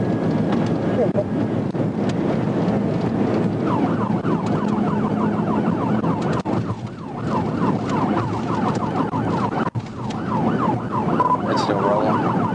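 A police siren wails in repeated rising-and-falling sweeps during a high-speed pursuit of a silver and gold Honda Accord heading east on 280, steady and fairly loud over road and wind noise, with a voice talking beneath it.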